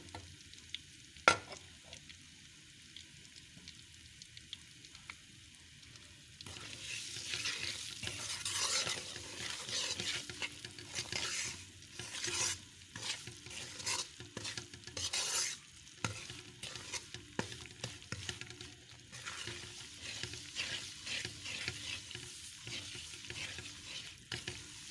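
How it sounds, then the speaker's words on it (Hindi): A milk powder burfi mixture is stirred and roasted with ghee in a pan, giving steady rhythmic scraping and soft sizzling that begins after a quiet start and continues close up, with no voices. "इसको ज़्यादा नहीं भूनना है, इसका कच्चापन ख़त्म करना है बस।"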